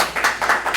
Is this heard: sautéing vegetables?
no